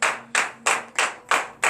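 A church congregation at a Saturday morning prayer service claps in praise, six loud, sharp hand claps in a steady, evenly spaced rhythm, close and alone with no voices over them.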